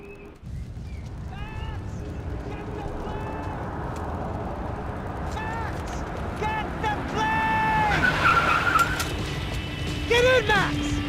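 A car in the video game Max Payne 3 drives hard with a steady engine rumble and several sharp tire squeals rising and falling as it skids, mixed under loud character voices and game noise.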